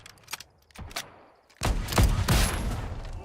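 Gunfire in a shootout in the western game Legend of California: a few sparse distant shots, then a loud dense burst of rapid firing with sharp cracks over a rumbling tail.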